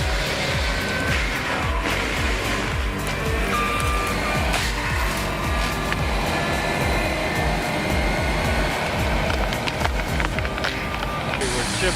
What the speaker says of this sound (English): With 110 horsepower and a high-speed forestry mulcher, branches, roots, and saplings are shredded into dust.